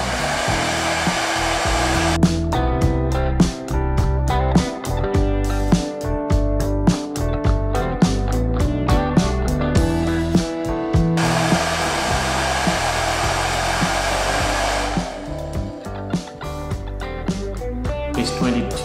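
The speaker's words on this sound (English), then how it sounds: "I'm gonna use a hairdryer for 1 minute." A domestic hair dryer runs continuously at close range, a loud steady blowing whir with clicks and shifts in tone as it is handled.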